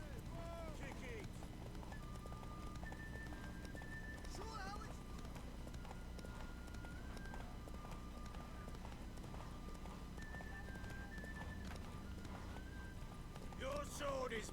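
Galloping horse hooves pound in a fast, steady rhythm during a race to a tower in The Witcher 3, heard beneath character dialogue and background music for most of the stretch.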